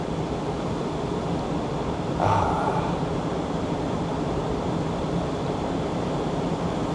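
Water washes onto Port Aransas beach in a soft, continuous hiss of surf heard from close by, steady and fairly quiet, with one brief louder splash partway through.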